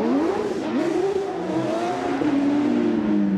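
A Porsche 911 race car with a 3.8-litre flat-six revs and launches off the line at a race day, engine loud and close, pitch rising steadily as it pulls away.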